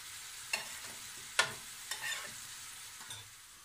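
Minced meat fries in a pan for a light moussaka, with a steady close sizzle broken by a few sharp scrapes and knocks as a utensil stirs it.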